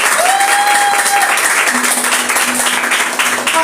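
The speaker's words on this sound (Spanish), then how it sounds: "Denle un aplauso al Rey. ¡Dáselo fuerte!" A church congregation claps loudly during a devotional sermon, a dense close burst of applause with whoops and cheers rising over it, holding strong for several seconds.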